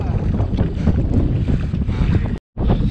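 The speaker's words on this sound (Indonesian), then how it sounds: "So dia angin." Storm wind roaring steadily during a kayak trip on rough, high-wave water, a loud continuous rush that cuts out briefly near the end.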